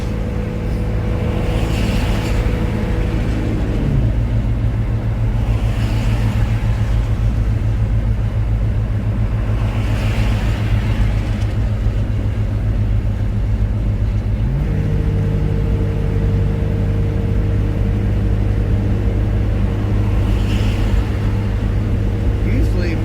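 A steady, loud engine drone heard from inside a vehicle on a highway between California and Arizona, stuck behind a slow truck, the engine pitch stepping down and then back up as it shifts.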